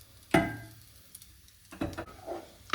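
Tomatoes are stirred into a butter and herb sauce in a pan in a small kitchen: a sharp clank of a utensil against the pan, a quiet pause, then a few softer scraping clatters and a faint sizzle.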